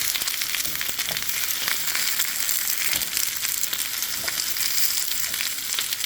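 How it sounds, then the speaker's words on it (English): Hot water hitting a pan of softened leeks and garlic, a loud steady sizzling hiss with bubbling crackle that continues evenly throughout, no voices. "I'm going to take just a little bit of that, and I'm going to use that to deglaze this pan"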